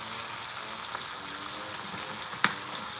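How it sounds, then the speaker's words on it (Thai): Low hiss of frying rises as fish sauce hits the edge of a hot wok, with a sharp clink partway through. "ใส่น้ำปลาที่ขอบกระทะเนี่ยทำให้กับข้าวเนี่ยคือมีกลิ่นหอมขึ้นเลยนะคะ"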